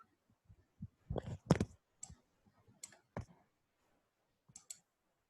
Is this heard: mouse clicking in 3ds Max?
yes